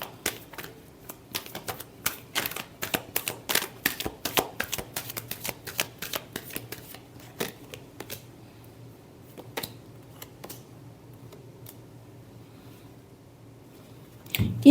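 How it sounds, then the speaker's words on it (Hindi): Tarot cards are shuffled in a series of crisp, rapid riffling snaps that cluster densely over the first seconds, then thin to scattered flicks, ending with a louder close thump, with no talking. "Last shuffle."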